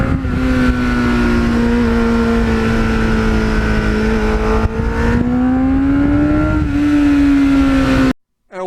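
A restored 1989 Kawasaki GPX750R Ninja is ridden on back roads, its engine droning loud and close with a steady pitch that rises and falls gently, plus wind rush, before cutting off abruptly near the end.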